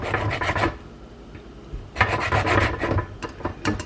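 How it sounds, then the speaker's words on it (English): A small mandarin orange being zested over a crock, giving close, dry rasping scrapes in two quick bursts of rapid strokes with a short pause between. "Next, I'm going to zest this little orange, this little mandarin orange, right over top of the..."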